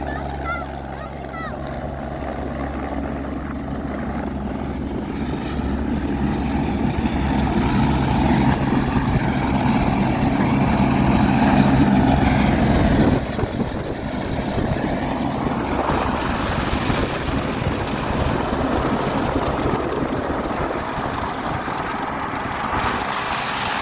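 A helicopter on a Kedarnath–Badrinath pilgrimage flight drones with a steady engine and rotor hum that swells briefly midway, while voices talk over the continuous noise.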